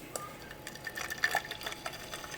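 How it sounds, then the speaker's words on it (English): Water poured into a pot to make Turkish tea, a light, trickling splash with small irregular drips and gurgles, moderately close and fairly quiet. "we're gonna actually add here water."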